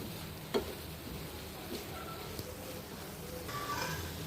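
A capsicum and tomato curry with coriander leaves is stirred in an oily frying pan, a soft steady sizzle with occasional light scrapes and taps of the spoon, faint and close.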